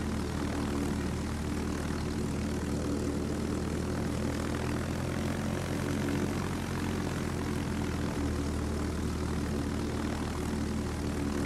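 A steady, dense drone of enemy propeller aircraft engines from the World of Warships naval video game fills the clip at constant loudness, heard alone with no voices.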